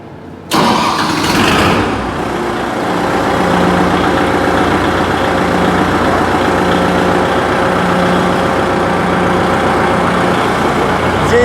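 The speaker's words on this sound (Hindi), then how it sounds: "थोड़ा चालू करके स्टीयरिंग घुमा कर दिखाइए पूरा" A Kubota MU4501 45 hp tractor engine cranks briefly, catches and settles into a loud, close, steady diesel idle with an even rumbling rhythm that continues to the end.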